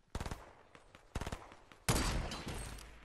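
Gunfire in the Fortnite video game comes as two quick bursts of nearby rapid shots, then a loud, sustained noisy blast of fire that carries on to the end.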